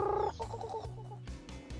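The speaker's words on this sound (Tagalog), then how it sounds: "ang daming manok" Many chickens clucking and calling together outdoors in a jungle clearing on Saipan, a busy overlapping chorus of close, moderately loud clucks.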